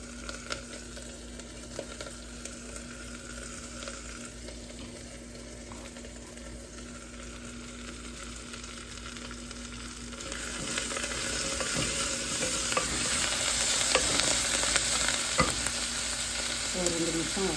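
Onions sauté in a pan with coriander and mint, a steady close sizzle with stirring scrapes that grows louder and busier in the second half, with no talking.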